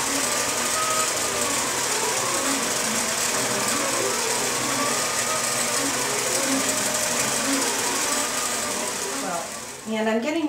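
Computerized Intelliquilter quilting machine stitching out a pantograph row, a steady continuous mechanical hum with a rhythmic needle pattern running loud throughout, then briefly dipping near the end as the row finishes.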